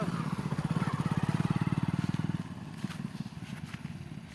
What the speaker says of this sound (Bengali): এই যে দেখো বাবা কত সুন্দর বাইক চালাচ্ছে